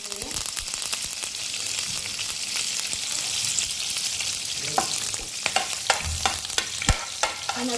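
Green chillies and curry leaves sizzle and crackle in hot oil in a pan, a continuous loud frying hiss punctuated by sharp pops and spatters that grow more frequent toward the end, with stirring scrapes mixed in.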